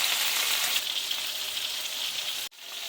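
Beef kebabs frying in hot mustard oil give a steady, close crackling sizzle that fills the clip, dropping away abruptly near the end.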